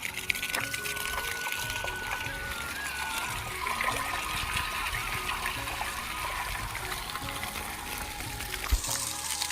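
Irrigation water running through a freshly planted maize field: a continuous, close rushing trickle that holds steady throughout, with no voices over it.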